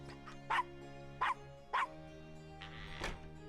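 Castro the dog barks in the Gabriel Knight game, three short clear barks evenly spaced over steady background music, followed by a softer whimpering yelp.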